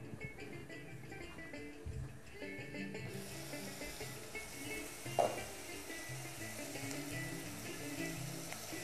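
Onions soften in a covered pot, giving a quiet, steady low sizzle with faint lid and utensil sounds, fairly close and without speech.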